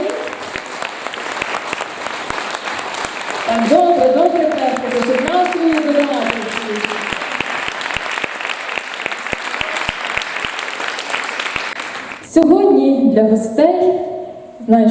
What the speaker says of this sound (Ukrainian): Тож оплески для ювіляя